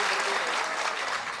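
Audience applause at an All India Mushaira poetry gathering in Vashi, Navi Mumbai: a dense, steady wash of many hands clapping together, loud and continuous throughout with no voices on top.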